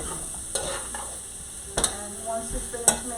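Red pepper flakes, Italian seasoning, garlic powder and complete seasoning are stirred in a hot pan for shrimp alfredo, a steady close sizzle broken by a few louder scraping stirs, with no voices.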